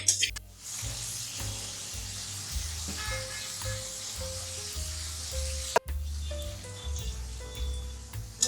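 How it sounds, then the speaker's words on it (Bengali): Hilsa fish curry masala sautéing in a pan gives a steady, close sizzle with occasional stirring scrapes, alongside soft background music and one sharp clatter midway. "5 মিনিট ভালো করে কষিয়ে নিব।"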